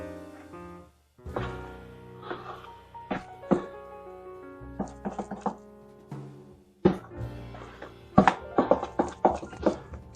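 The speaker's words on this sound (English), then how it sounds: "And then the flour. I'll mix all that up." Flour being mixed into brownie batter by hand, a run of irregular thunks and scraping knocks of a utensil against the bowl, close and fairly loud, with brief pauses between bursts.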